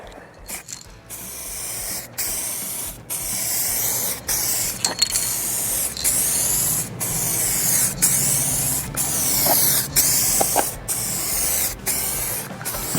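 A spray can lays clear coat onto a car bumper in a series of short hissing bursts, about a dozen passes separated by quick pauses, close and fairly loud.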